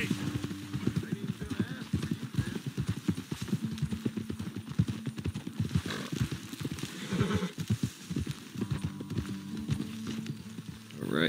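A horse in Red Dead Redemption 2 walks with steady, clear clip-clop hoofbeats, then whinnies loudly partway through. A voice talks over parts of it.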